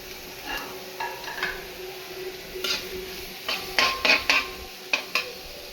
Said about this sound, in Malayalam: എണ്ണ ഒഴിച്ച് കൊടുക്കാം, സവാള ഇട്ട് കൊടുക്കാം